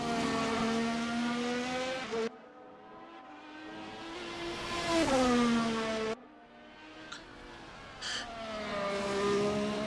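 A race car engine screams through its gears at the Abu Dhabi round, rising harmonic whines broken by sharp cuts at each shift, then climbing again, loud and close, with no talk.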